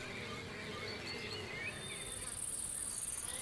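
Wild bees buzzing in a flowering meadow in France, a steady, dense drone of many insects close by, continuous throughout with a thin high whine rising toward the end.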